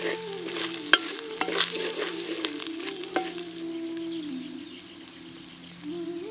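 Finely chopped shallots fry in a pan with ground cumin and curry leaves for a goat spleen fry, giving a steady close sizzle broken by sharp clicks and scrapes of stirring, busier at first and easing toward the end.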